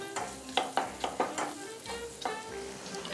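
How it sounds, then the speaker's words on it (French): Chopped shallot sizzling in melted butter in a pan, a steady soft frying hiss broken by several light scraping stirs, close and fairly quiet with no talking. "Dès que mon beurre est fondu, j'ajoute l'échalote. Je vais la faire revenir comme ça pendant 1 minute."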